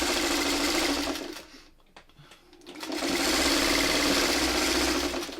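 A sewing machine stitching quilt pieces runs in a fast, steady, close whir, slows to a near stop for a moment with a few faint clicks, then speeds back up to a continuous drone.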